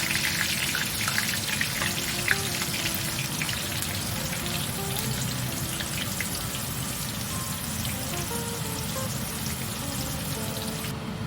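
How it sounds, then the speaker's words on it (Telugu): Chickpeas fry in hot oil with a steady, even bubbling sizzle like light rain. The sound runs unbroken from start to end and no one speaks. "మనకు ఆయిల్ వేడైపోయిందండి. ఇలాగా ఫ్రై చేసుకున్నాము."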